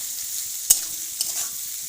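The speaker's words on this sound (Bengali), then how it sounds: "পেঁয়াজটা দিয়ে আমি ভালো করে 7 থেকে 8 মিনিট ভালো করে কুক করে নেব" Chopped onions fry in a pan with a soft, steady hiss. One sharp stirring knock is followed by a fainter second scrape; the whole sound is quiet and close.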